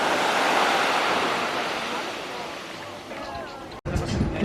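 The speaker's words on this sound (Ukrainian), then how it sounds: "Такий тут пляж." Surf washes onto a black volcanic sand beach on Santorini, a broad steady roar with wind buffeting the microphone, ending in a sharp cut followed by a burst of closer splashing water.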